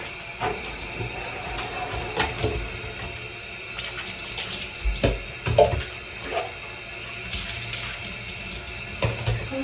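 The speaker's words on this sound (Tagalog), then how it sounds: "Buksan natin tubig." Tap water running steadily into a basin for bathing a pet, a constant hissing splash with scattered knocks and splashes of handling mixed in, close and moderately loud.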